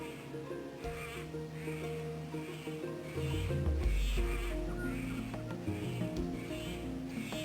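A helmeted friarbird calls in Queensland bush, giving harsh, raucous, repeated cackling notes at a moderate distance over background music.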